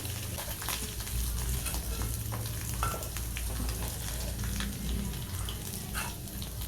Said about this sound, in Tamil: ஜென்டலாக மிக்ஸ் பண்ணி நல்லா ஃப்ரை பண்ணி எடுத்துப்போம்